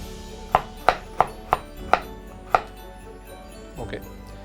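A sharp knife slices a carrot into thin pieces, giving about seven crisp, evenly spaced strokes on a cutting board, then a softer pair of cuts near the end, close and with no talking.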